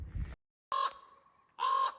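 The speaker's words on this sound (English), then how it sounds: "There's this enormous great bird making that noise in the tree." A large bird calls from a tree beside a logging road on a gray day in northern Vancouver Island, two loud hoarse croaking calls separated by a pause, fairly close, with a brief rustle before them.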